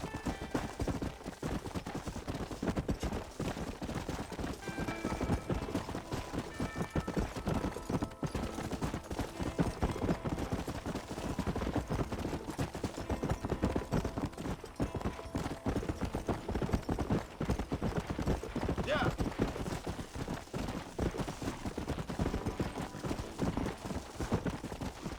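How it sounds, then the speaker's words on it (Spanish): Horses gallop in Red Dead Redemption on PC, their hooves clip-clopping in a steady, dense rhythm that runs without a break under a busy game soundscape. "Me gusta cómo corren los caballos, parece que movieron mucho las patas"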